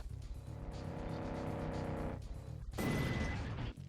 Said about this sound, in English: For the second time, we have to deal with a car coming out of nowhere